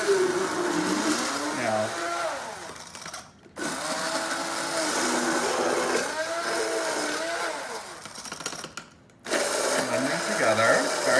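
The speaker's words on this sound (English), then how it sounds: "we're going to take our hand mixer and we're literally just going to blend it" A handheld electric mixer whirs while blending a sauce of olive oil and other ingredients, its pitch wavering as it moves through the mix, with two brief pauses, and a voice speaking over it.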